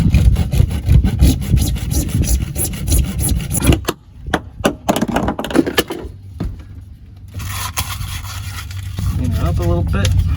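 A file rasps rhythmically across the cut end of a 1.25-inch plastic pipe piece during boat composting toilet work, loud and close, then gives way to scattered handling knocks.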